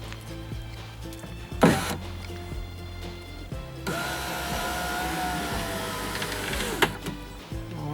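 The power window motor on a 1997–2003 Ford F150 raises the window with a steady electric whine lasting a few seconds. Thumps and clicks come before and after it.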